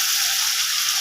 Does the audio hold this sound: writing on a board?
no